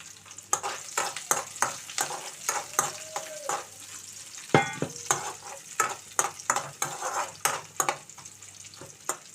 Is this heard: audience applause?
no